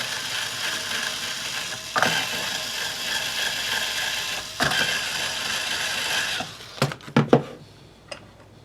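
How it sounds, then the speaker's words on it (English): Guitar strings being loosened on a Jackson X Series guitar, a steady ratcheting, mechanical tuner turning that runs for several seconds with a few louder clicks, ending in a handful of sharp separate clicks. "Keep loosening the strings."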